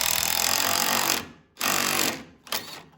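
A pneumatic impact gun hammers on a 15 mm sway bar link nut on a Ram 1500, loud rattling bursts close up, stopping briefly and then firing short again.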